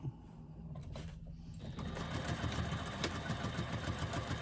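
A sewing machine runs a second row of stitching, its motor whirring and needle chattering in a fast steady rhythm that settles in after a brief quieter start, close and moderately faint.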